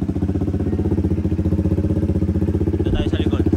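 A Honda PCX 160 scooter idling with an open exhaust pipe, a close, loud, rapid rhythmic putter holding steady, with a brief clatter near the end.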